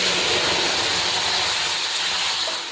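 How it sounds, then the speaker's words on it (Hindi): Milk hits roasted semolina in a hot pan for kheer, raising a loud, steady, hissing sizzle that stays broad and even throughout, with no talk. "तो अब इसमें दूध डाल रहे हैं।"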